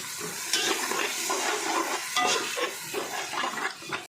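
Ginger garlic paste, 200 grams, being stirred and fried in a pan for a 1 kg chicken biryani: close, steady sizzling with scraping stirs and soft clinks of a utensil against the pan, no voices.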